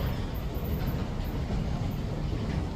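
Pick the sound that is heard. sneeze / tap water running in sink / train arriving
train arriving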